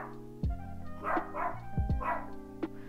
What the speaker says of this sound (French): Quand c'est pas le chien qui gueule